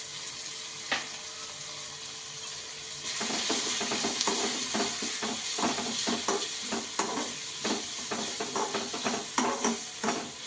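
Egg roll filling sizzles and fries in a pan with coriander powder and garam masala, a spoon stirring and scraping in a steady rhythm over a constant bright hiss, close and fairly loud.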